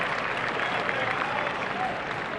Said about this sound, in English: the fans are applauding,